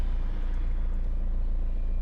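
An Opel Vectra DTI diesel engine runs at a steady idle, a continuous low drone with no speech.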